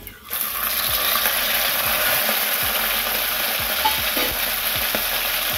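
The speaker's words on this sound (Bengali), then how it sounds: "ফোড়নটা আমার ভাজা হয়ে গেছে, এবার আমি চিংড়ি মাছটা দিয়ে দিচ্ছি।" Steady, loud sizzling of prawns frying in hot oil, with rhythmic scraping of a spatula stirring the pan throughout.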